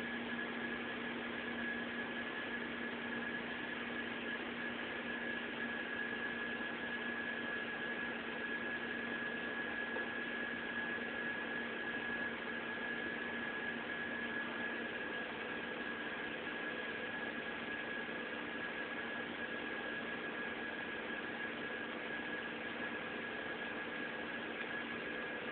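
An Audi A6 4.2 engine at cold start-up, a steady high whine held over a constant hum and broad engine noise, unchanging for the whole stretch, close and with no talk.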